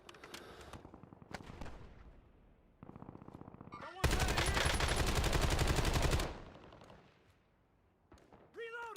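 AK rifle fire in a video game crackles in quick rapid shots, building into a loud, dense two-second burst of automatic fire, then fading to scattered shots and ambient noise, with someone talking at points.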